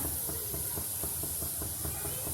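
Sweet potato kheer simmers toward a boil in a pot, a soft, steady bubbling hiss close by with faint rhythmic pops, no talk.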